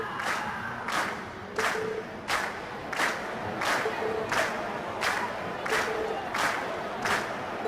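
A crowd at a concert performance in the video game Trails of Cold Steel cheers steadily, with a sharp rhythmic burst repeating about every 0.7 seconds over the roar.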